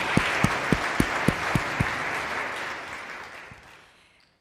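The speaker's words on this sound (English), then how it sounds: "Let's have a round of applause for the organizers" Audience applause for event organizers, a dense wash of clapping with a few sharp louder claps early on, sustained before fading out toward the end.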